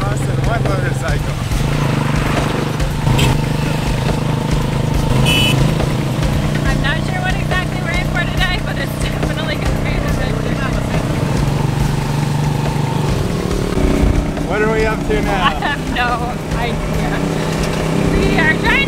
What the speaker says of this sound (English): We are now going to take a bicycle taxi sort of thing to downtown Iquitos.